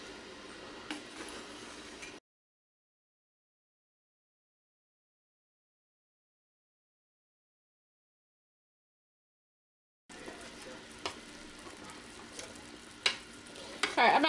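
A spoon stirs homemade jam boiling in a kitchen pot, giving soft bubbling and scraping with light clinks. The sound breaks off into a long silent gap, then returns with a louder clatter at the end.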